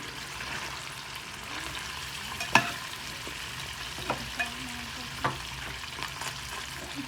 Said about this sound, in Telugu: ఆ చికెన్ని ఆయిల్లో వేసేస్తుంది కొంచెం హీట్ వచ్చిన ఆయిల్లో